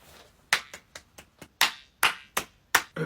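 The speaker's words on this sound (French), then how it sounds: "Applaudissez." A small group claps in a sparse, uneven rhythm of about eleven sharp, separate claps, some louder than others, close and dry with no talking.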